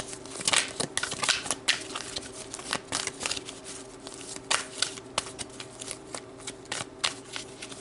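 Tarot cards being shuffled by hand, a rapid run of crisp riffling snaps and flutters in uneven bursts, close and alone.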